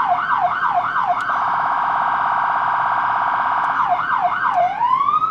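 A vehicle siren switched on with its button wails in rising and falling sweeps, settles into a steady high tone, then resumes sweeping, loud, close and alone without speech.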